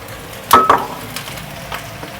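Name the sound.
shrimp shells sautéing in a pan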